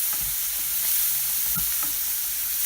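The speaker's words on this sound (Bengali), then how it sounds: "একটুখানি নেড়ে চেড়ে এর ভিতরে ধনিয়ার পাতাগুলো দিয়ে দেব।" Beaten egg mixture fries over medium heat with a continuous loud sizzle while a spatula stirs and scrapes the pan in a few soft, irregular strokes, with no voices.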